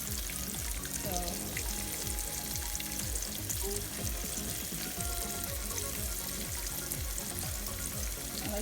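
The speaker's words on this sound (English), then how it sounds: "Now we place the shrimp in the oil." Jumbo shrimp frying in olive oil over low heat, a steady close sizzle and crackle that runs unbroken throughout with no voices.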